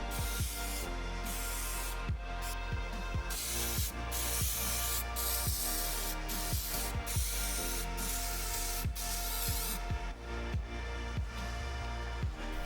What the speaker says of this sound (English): I put some spray adhesive on both the wood and the back of the foam